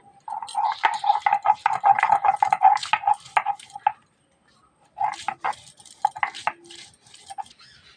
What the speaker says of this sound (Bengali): আদা জিরা লঙ্কাটা বেটে নেবো